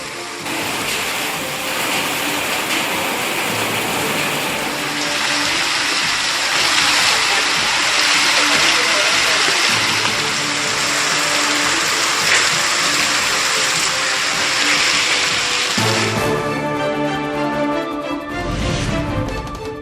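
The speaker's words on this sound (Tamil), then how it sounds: "தொடர் மழையால் சாலைகளில் பெருக்கெடுத்த மழைநீர்." After heavy rain in Tiruchendur, rainwater gushes along flooded roads in a loud, continuous rushing wash that changes character near the end.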